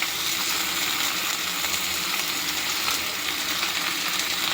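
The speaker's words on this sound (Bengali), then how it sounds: "এই যে সবজিটা ভেজে নিয়েছি, নিয়ে যে কষাচ্ছি পোস্ত দিয়ে।" Mixed vegetables and stems frying with poppy seed paste for Bengali shukto make a dense, continuous hissing sizzle, close and steady throughout with no voices.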